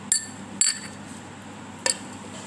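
A spoon clinks against a bowl three times while a skin-lightening paste for elbows and knees is being mixed, light sharp taps with soft scraping between them.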